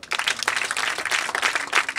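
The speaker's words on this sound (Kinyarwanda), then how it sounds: "Mwongere muntiza amashyi tubashimire." A crowd claps at a community ceremony in Kinyinya sector, Rwanda, with brisk, dense applause that rises and falls in rapid bursts and stays fairly loud throughout.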